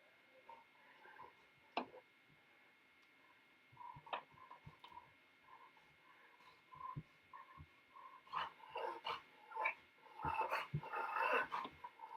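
A dog indoors gives sporadic low growls and short barks, quiet at first and then a louder cluster of yaps and grumbles near the end, with a faint ticking and no voices.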